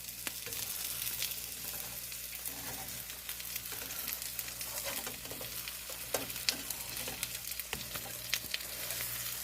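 An omelet fries in a pan as it is flipped, a steady sizzle running throughout with scattered clicks and scrapes of the spatula against the pan, fairly close and alone.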